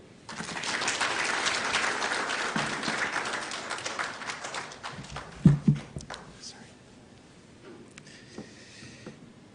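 A crowd claps steadily for several seconds, then the applause thins out and scattered claps and a few thumps fade away near the end.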